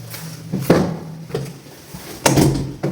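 Double entry doors of an apartment open with several close knocks and thuds of wood and handles, spaced irregularly over about three seconds with no talking.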